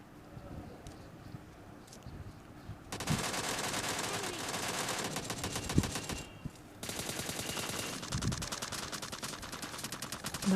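M4 rifle gunfire in PUBG Mobile Lite: quiet wind-like ambience, then a sustained rapid automatic burst for several seconds, a brief pause, and another long burst of fast shots, fairly loud.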